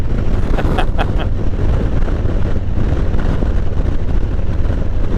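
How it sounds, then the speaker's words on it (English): Loud, steady wind buffeting a microphone while riding a Harley Davidson Road Glide at about 40 mph on a very windy day, a constant low roar throughout with a few brief clicks near the start. "That tells you how windy it is out here."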